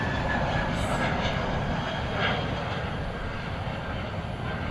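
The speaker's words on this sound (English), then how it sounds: "There goes the flight to London" American Airlines airliner departing for London at night, a steady broad engine roar that holds near-constant loudness throughout, distant and unbroken.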